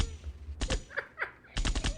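Gunshots from a TV crime drama, two quick bursts of sharp cracks separated by a short pause, loud and close with faint tonal sounds between the bursts.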